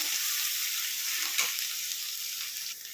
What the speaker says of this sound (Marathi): जो मसाला आपला उरलेला आहे तो पण याच्यावरती टाकून घ्यायचा आणि मिक्स करून घ्यायचं आणि याला दोन ते तीन मिनटं याला परतून घ्यायचं